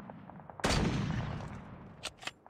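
SP-R 208 sniper rifle in Call of Duty Mobile: one sharp, loud close shot with a decaying tail, followed by a couple of fainter clicks and cracks.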